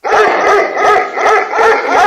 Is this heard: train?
no